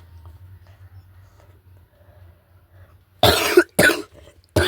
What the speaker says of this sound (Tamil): இருமல் வேறு வந்து தொலையுது.